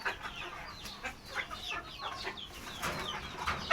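Desi chickens cluck on a balcony, several birds making soft overlapping clucks and squawks at close to middle distance, with a sharper call at the end.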